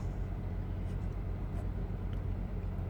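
A Volkswagen car engine idles with a steady, close low rumble and faint mechanical hum, holding even and unchanging with no talk over it.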